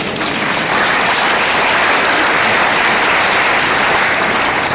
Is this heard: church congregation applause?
yes